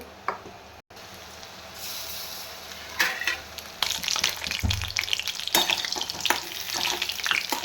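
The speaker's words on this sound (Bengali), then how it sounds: "একটা লঙ্কা যেটা জলে পড়ে গিয়েছিল সেটাকে এখন ভাজা করব।" A chili fries in oil with a quiet start, then crackling, spitting sizzles that grow louder and busier, with occasional sharp pops.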